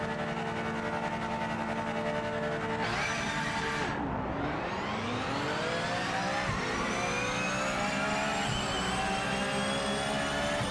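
A Porsche Cup race car engine in the Rennsport racing game drones steadily up close, then drops sharply through a downshift and climbs again through the revs with a smooth rising whine.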